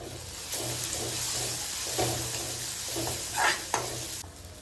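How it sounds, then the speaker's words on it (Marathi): A spoon stirs a masala mixture in a hot frying pan while making stuffed capsicum, with a steady close sizzle broken by repeated scraping strokes. "मिक्स करूयात."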